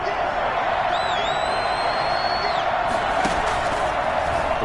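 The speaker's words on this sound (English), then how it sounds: "The crowd getting into it as we come up on a big 3rd down." Football stadium crowd roaring ahead of a big third down, a dense, steady wall of cheering across the whole stretch with a whistle-like rising tone early on, loud and near with no clear talk over it.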